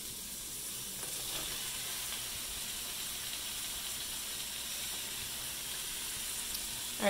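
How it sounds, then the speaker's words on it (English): Peppers sizzle in a pan with olive oil, making a steady, even hiss and crackle that runs unbroken at moderate loudness. "We'll go with the peppers first into this pan, which I just have simmering"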